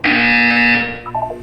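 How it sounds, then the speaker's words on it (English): Buzzer in Portal 2, a single loud harsh electronic buzz held for nearly a second, then fading into a short stuttering tail. "You will hear a buzzer."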